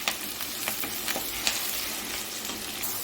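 Onions fry in hot oil in a pan with a continuous loud sizzle, marked by scraping stirs every half second or so. No voices are heard.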